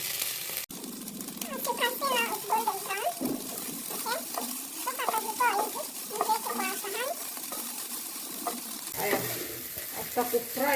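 Chicken pieces frying in a pan for chicken macaroni until golden brown, giving a steady close sizzle with occasional stirring while a voice talks over it.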